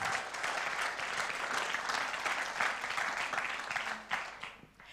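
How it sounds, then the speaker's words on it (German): An audience claps steadily for a long-married couple at a talk event, dense applause holding at an even level before thinning slightly at the end. "geben wir ihnen einen Applaus"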